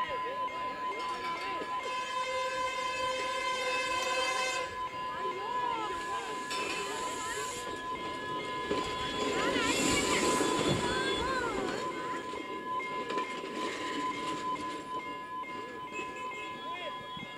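A train passes along a railway track through a trackside area where vendors keep stalls, giving a steady, fairly loud rumble with sustained horn-like tones and a swell near the middle, with background voices throughout.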